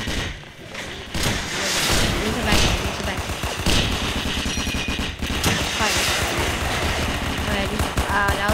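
Rapid gunfire and machine-gun bursts in a Roblox D-Day game, loud and continuous, with thuds of impacts throughout and a player talking over the shooting.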